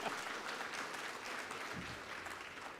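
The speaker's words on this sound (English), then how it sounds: "Let's have one big round of applause for Russell Bhai." Applause for Russell Mehta at an informal coffee-meeting gathering, a steady wash of clapping from a modest audience held at an even level for a few seconds, without talk over it.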